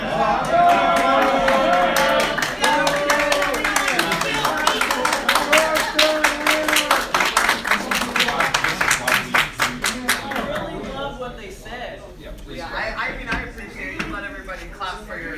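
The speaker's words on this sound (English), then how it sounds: "so let them clap for them" An audience at a Portland city council meeting claps in a quick, steady burst that thins out and fades, with voices talking over and after it.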